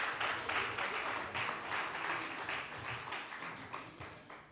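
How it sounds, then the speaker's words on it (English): A lecture-series audience applauds a guest speaker, a steady wash of many hands clapping at moderate loudness that fills the whole moment without a break. "One more round of applause for Dr."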